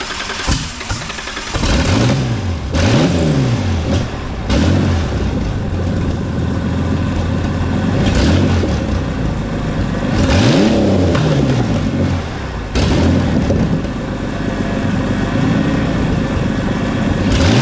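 An old blue car's engine cranks, catches and runs, revving repeatedly in loud, close bursts with rising and falling pitch, settling between throttle blips with a noticeable hesitation when the throttle opens.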